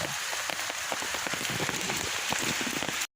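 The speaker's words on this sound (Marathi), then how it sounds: "मुसळधार पाऊस आहे कोकणात" Heavy monsoon rain pours steadily in a Konkan village at Pavas, a dense, continuous hiss of drops with scattered patters striking surfaces, loud and close throughout before cutting off abruptly.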